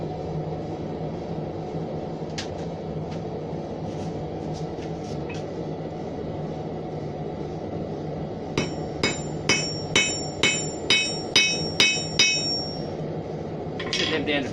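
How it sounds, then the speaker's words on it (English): A hammer flattens the ends of horseshoes for a keyring hook rack, starting with a few scattered light taps and then a run of about ten sharp, evenly spaced metallic strikes, with a couple more near the end and no speech. "So all we want to do with these is we just want to flatten out the end."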